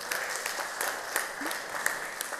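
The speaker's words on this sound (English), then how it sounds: "A round of applause for him." Applause from a church congregation at a Pentecostal-style sermon on the Holy Spirit, a steady broadband patter of many hands clapping with a few sharper claps standing out, moderately loud and continuous throughout.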